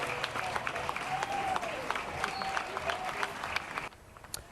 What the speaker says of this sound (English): customers broke out in applause for firefighters from the Maria fire